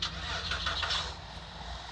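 Bus engine starting in the video game Bus Simulator Indonesia, a steady, fairly loud rumbling drone with a low mechanical hum continuing throughout, heard alone without speech.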